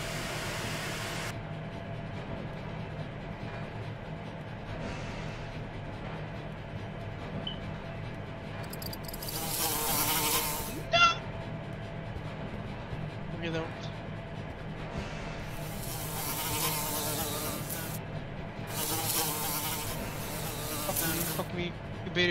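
Bugs buzz in the video game Escape the Backrooms: a thin, shifting insect drone rises and fades in several bursts over a low steady hum, with people talking throughout.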